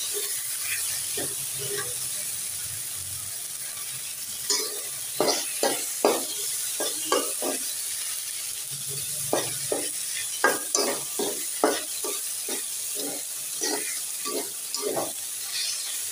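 Okra (bhindi) fries in a pan with a soft background sizzle. A run of sharp scraping stirs and clinks starts partway through and recurs at an irregular pace.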